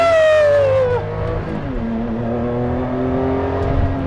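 A Maserati MC12 supercar's engine howls loudly from inside the car while driving, revs falling with a gear change before a steady, droning pull resumes at lower pitch.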